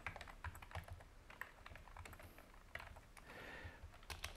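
Rapid typing on a computer keyboard while writing boilerplate code, a steady stream of close, crisp key clicks with irregular rhythm and occasional louder keystrokes.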